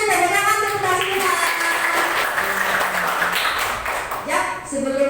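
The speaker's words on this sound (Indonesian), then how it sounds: "Tepuk tangan untuk kelasnya." A school class bursts into sustained clapping together, a dense patter of many hands filling most of the moment, with a teacher's voice speaking just before and after it.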